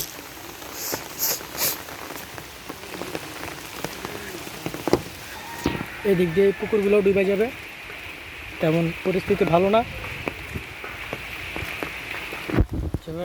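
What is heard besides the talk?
rain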